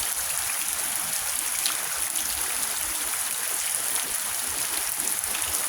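Deep floodwater rushing steadily during flooding in Texas, a dense, continuous hissing wash of moving water that stays even and loud throughout, with no talk.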